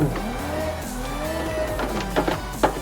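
A Toyota JZX90 drifting in the Assetto Corsa racing simulator, with engine droning and tires squealing in wavering tones, throttle blips near the end, loud and close with no talking.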